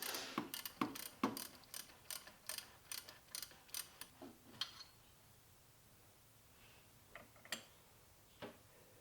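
A ratchet wrench clicks rapidly in quick bursts while loosening the banjo bolt on a Subaru STI power steering pump, then slows to a few isolated clicks; close up and fairly quiet, with no talking.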